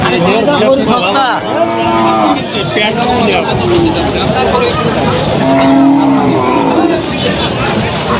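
Cattle, including bony dairy cows, low repeatedly at a busy cattle market at Rajshahi City Haat, with several drawn-out moos rising over a steady crowd babble and nearby voices talking.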